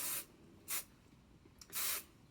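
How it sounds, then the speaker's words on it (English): Three short hissing bursts of spray from a hairspray can, close and fairly soft, separated by brief pauses. "you get some hairspray and spray it"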